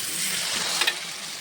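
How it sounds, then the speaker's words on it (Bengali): Water poured into a hot frying pan while cooking a soyabean dinner, a sudden loud hiss that holds steady for over a second, with a couple of quick spatters near the middle. "জল দিয়ে দিলাম"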